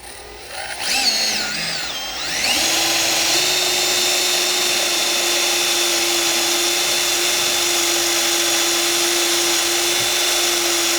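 A power drill bores holes for a gas tank skid plate on a 100 Series Toyota Land Cruiser, winding up then holding a loud, steady whine close by for about nine seconds with no talk.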